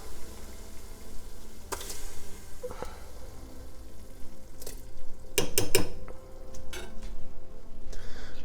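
Sauce being added and stirred into a pot of strained, cooked pasta for Bolognese, with a few sharp clanks of a utensil against the pot over a low, steady kitchen background.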